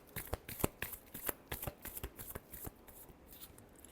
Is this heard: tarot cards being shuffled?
yes